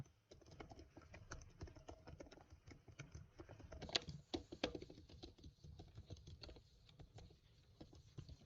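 Rapid, irregular key clatter from a computer keyboard as a keyword is typed, close and fairly quiet, continuing steadily without speech.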